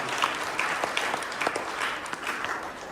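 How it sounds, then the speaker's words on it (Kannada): A school audience claps loudly and steadily in a dense, continuous burst of applause that lasts throughout. "ಎಲ್ಲರೂ ಜೋರಾಗಿ ಚಪ್ಪಾಳೆ ತಟ್ಟುವುದರ ಮುಖಾಂತರ ಅವರಿಗೆ ನಾವು ಧನ್ಯವಾದಗಳನ್ನ ಅರ್ಪಿಸೋಣ"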